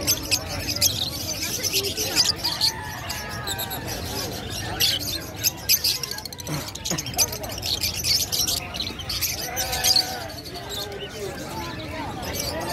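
Many caged birds chirp and tweet together at a bird market in Bocaue, Bulacan, a dense, busy chatter of overlapping calls filling the space with crowd noise and voices murmuring underneath.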